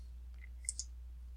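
A computer mouse is double-clicked, giving two quick, sharp, close clicks over a low steady hum.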